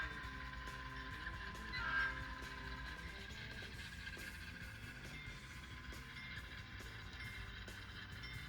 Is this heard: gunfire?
no